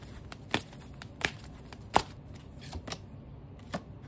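Tarot oracle cards being shuffled by hand, a quiet run of crisp, scattered snaps and flutters, with a few sharper clicks standing out against a soft background.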